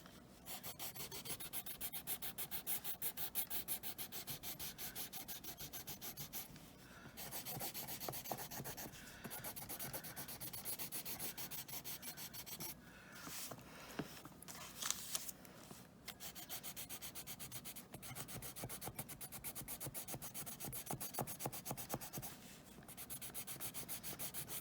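Colored pencil colouring on paper, a close, continuous scratchy rubbing with rapid back-and-forth strokes and brief pauses, no talking.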